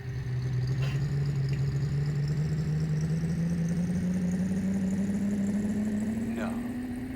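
Engine drone of a big rig in the racing game Big Rigs Over The Road Racing, a steady loud hum rising slowly in pitch as it accelerates uphill, with faint voices mixed underneath.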